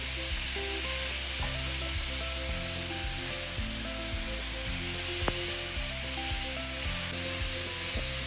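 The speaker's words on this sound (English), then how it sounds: "We're going to saute this for about 5 minutes" Celery and carrot sauté in a pan with a steady, close sizzle that runs unbroken throughout and no voices.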